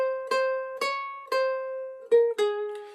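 A ukulele plays the next phrase of God Save the Queen: five clear plucked notes in a steady, unhurried rhythm, close and solo, each note ringing with rich overtones before the next.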